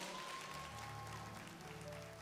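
Church congregation applauding during a service, a steady continuous wash of clapping at moderate level with a faint sustained tone running underneath.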